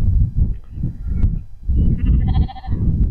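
Sheep bleating during a sheepdog training session with two pups working the flock, several overlapping wavering calls at close to middle distance between bursts of livestock movement and noise.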